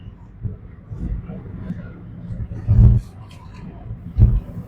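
A converted shuttle bus camper drives along a road, its engine rumbling low and steady with swelling bumps and thumps as it rolls; a voice talks intermittently over the moderate cabin noise.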